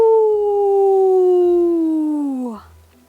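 A single loud, drawn-out howl sound effect plays alone, holding steady before sliding down in pitch and fading over about three seconds.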